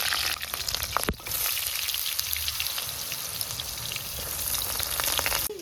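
Oil sizzles in a pan as eggplant fries for a home-cooked eggplant and bori dish. A continuous, rain-like crackle fills the clip, broken by a sharp utensil clink near the start.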